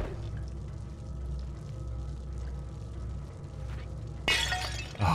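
A loud, glassy smash of objects breaking in the dark horror game Little Nightmares, bursting out late over a constant low droning background, followed by a second short clatter right at the end.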